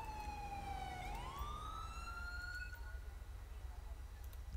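A police siren in the game GTA V wails, its pitch dipping and then rising again in a single sweep, fairly faint and distant over a low rumble.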